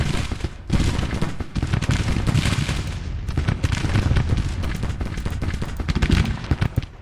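Civil War battle sounds in the Grand Tactician game, with dense musket volleys and heavy artillery booms rolling together in a loud, continuous fusillade of overlapping distant and near shots.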